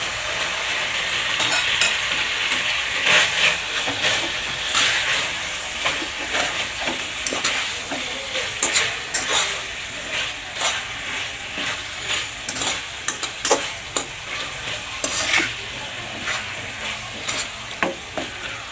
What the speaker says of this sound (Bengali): আর এখন এখানে আমি এই যে শাকটা সিদ্ধ করে রাখছিলাম ওইটা এখন এখানে অ্যাড করবো।